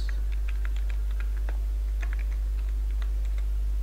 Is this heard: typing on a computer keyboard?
yes